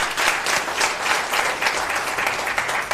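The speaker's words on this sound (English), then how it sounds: "So maybe just another round of applause for our wonderful dancers." Steady applause from an audience after a dance performance at a live garden cafe session, a dense even patter of many hands clapping at close range with no voices on top.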